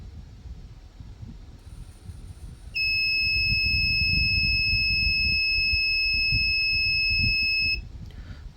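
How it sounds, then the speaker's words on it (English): An electronic buzzer on a student alarm clock project gives a loud, steady high-pitched tone for about five seconds, then cuts off, over a low background rumble. "This buzzer will then turn on for 5 seconds to indicate that the time is up."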